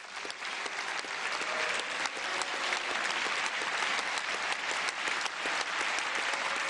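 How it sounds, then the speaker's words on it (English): Steady applause fills a European Parliament chamber for a remark by Francois Hollande, a dense, even wash of many hands clapping throughout with no talk over it. "Round of applause for remark from Francois Hollande"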